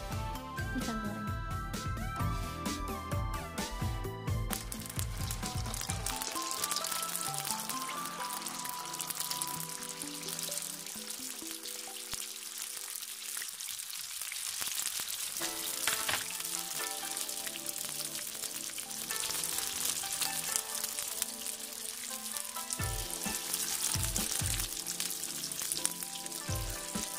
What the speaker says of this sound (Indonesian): Panaskan minyak, kita tunggu sampai minyaknya berbuih seperti ini. Kita goreng.